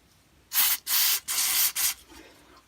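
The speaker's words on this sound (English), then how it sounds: "I'm going to blow a bit more carb spray on it." Four bursts of carb cleaner spray blasted onto a Honda HRH536 lawn mower carburetor after more than two years in storage, each hissing spurt loud and close with brief pauses between, no talking.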